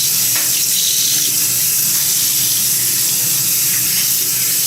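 Tap water running steadily and loudly into a sink while a bleached-hair wig is being washed, a constant broad rushing stream with no break and no voices.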